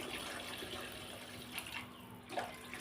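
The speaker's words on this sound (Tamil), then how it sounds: "உருளைக்கிழங்கு முழுங்குற அளவுக்கு தண்ணி ஊற்றிருக்கேன்" Water poured from a vessel over potatoes in a cooking pot while making a brinjal and potato stir-fry, a steady near splashing pour lasting a few seconds with brief louder gushes toward the end.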